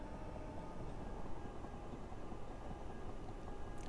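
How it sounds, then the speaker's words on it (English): A Class 377 electric train runs in the Train Sim 2021 video game, heard as a steady, low, continuous rolling rumble with a faint hiss, with no talking. "So far I'm really enjoying the class 377 on Train Sim 2021."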